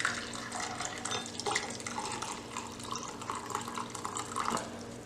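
Freshly boiled water poured from a kettle into a 16-ounce glass over a tea bag, a soft trickling splash running steadily at close range.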